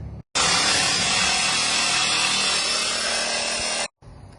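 A power saw blade cuts through the welded utility bed mount on a 2008 Ford F-450 Super Duty, a loud continuous close whine that starts abruptly and cuts off after about three and a half seconds.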